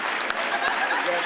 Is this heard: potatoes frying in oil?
no